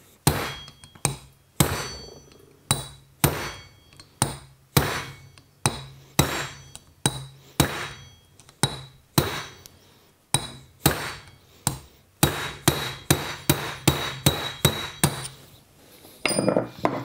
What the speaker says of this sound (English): Go to a bigger hammer.